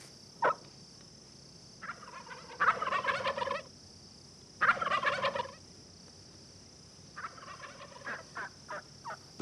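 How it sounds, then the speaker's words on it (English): A wild turkey gobbles in several loud rattling bursts with quiet gaps, followed by a series of softer clucks, set against a steady high insect-like hum. "The wild turkey is most often found in hardwood forest habitat"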